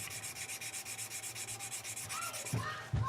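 Steady rhythmic sanding of CA glue mixed with gunmetal pigment on a 1/35 Zvezda Pantsir S1 scale model kit, close and fairly quiet, with a couple of small knocks near the end.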